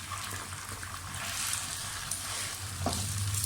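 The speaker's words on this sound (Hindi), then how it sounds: "प्याज को थोड़ा फ्राई करें।" Onions frying in a pan give a steady, busy sizzle with occasional soft stirring scrapes, close up and fairly constant throughout.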